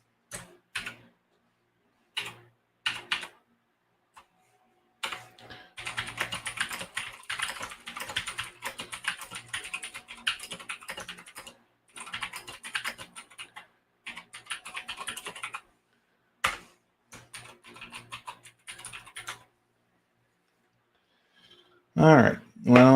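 Bursts of typing on a computer keyboard come in short clusters and longer runs, close and crisp against near silence, with a voice entering briefly at the end.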